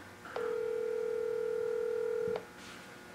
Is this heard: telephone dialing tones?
yes